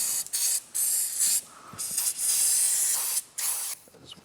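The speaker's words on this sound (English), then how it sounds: "Just using a contact / brake cleaner." Contact brake cleaner sprays in several strong bursts of hiss while an air filter on a Kawasaki KLX 110 dirt bike is serviced, close and loud with brief gaps between.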